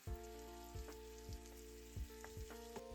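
Minced onion, garlic and tomato pulp fry quietly in a pan alongside stuffed-tomato meat patties, with a soft even sizzle and a few faint stirring knocks.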